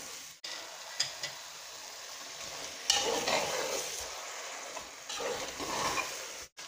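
Scraping and clattering of a spoon stirring yogurt-marinated beef in a pressure cooker over a low sizzle, with a few sharp knocks against the sides.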